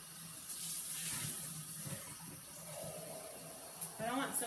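Tap water runs into a soapy mason jar at a kitchen sink, giving a faint, steady splashing rinse. A voice is heard briefly near the end.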